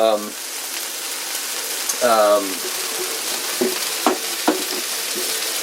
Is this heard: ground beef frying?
yes